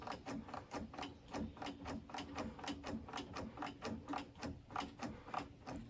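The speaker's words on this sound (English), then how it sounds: "Keep pumping the brakes. I think it is actually ratcheting." A Polaris Trail Boss 250's self-adjusting rear brake ratchets in a regular rhythm as the brake is pumped, about two metallic clicks per second repeating close and clear over a mechanical background.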